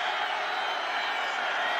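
A stadium crowd at a 2006 Northern Illinois vs Iowa college football game roars steadily for the Iowa Hawkeyes, a sustained broad wash of cheering with faint clapping mixed in.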